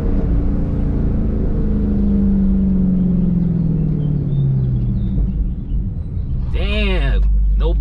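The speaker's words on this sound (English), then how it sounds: "Let's see if we get them gurgles and pops." A 2020 Dodge Charger Hellcat with a Corsa Extreme catback exhaust rumbles loudly and deepens as it decelerates, with a brief burbling pop near the end, alone and close.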